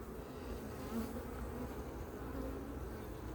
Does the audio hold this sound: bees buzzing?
yes